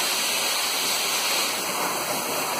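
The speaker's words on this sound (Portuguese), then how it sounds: "Agora é só passar o jato de água." Water jet spraying steadily during a cleaning job, a close, constant loud hiss and rush of water with no pauses.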